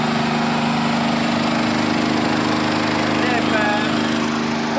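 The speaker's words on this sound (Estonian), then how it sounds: "See on generaator." A generator runs steadily near a lake with boats, giving a continuous low mechanical hum with a strong steady tone throughout, loud and constant with no pauses.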